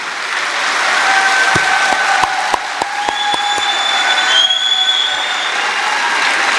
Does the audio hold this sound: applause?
yes